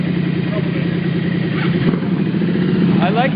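Motorcycle engines rumble steadily at a street march, a continuous mid-pitched drone with crowd noise and voices mixed in throughout.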